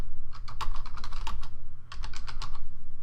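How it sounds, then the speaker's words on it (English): Rapid typing on a computer keyboard, two close bursts of clicking keystrokes separated by a brief pause. "so you see I'm typing in a question here"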